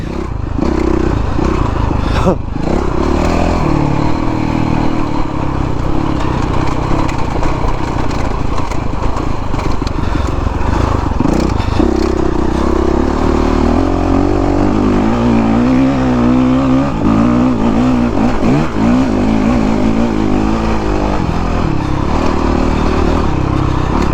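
A Honda CRF 450 motocross dirt bike ridden on a track, its engine loud and close throughout, revving up and down as it accelerates with some clattering along the way.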